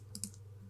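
A computer keyboard's keys are pressed in a quick shortcut, two faint, crisp clicks close together over a low steady hum.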